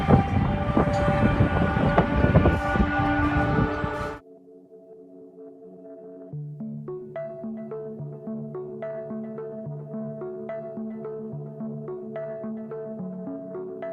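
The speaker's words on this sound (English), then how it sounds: "A ring of clouds accompanied by an unusual trumpet sound was recorded in the sky above Jerusalem." A loud, unusual trumpet-like blare sounds in the sky above Jerusalem: a dense, roaring blast for about four seconds. Layered sustained horn-like tones follow, quieter and steady to the end, with no voices.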